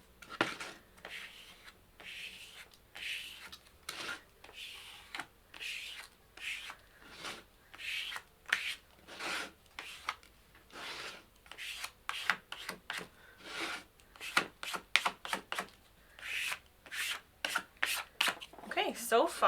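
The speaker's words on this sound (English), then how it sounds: "use this little squeegee friend" A small squeegee rubs paper flat along a book spine in repeated scraping strokes, close and distinct, starting at an even pace and growing faster and denser toward the end.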